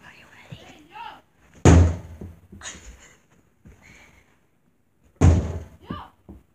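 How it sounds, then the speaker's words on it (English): A ball thrown against an indoor door lands with two loud, sharp thuds a few seconds apart, each slamming against the wood, with people talking and shouting quietly between the impacts. "I'm gonna throw this ball at the door"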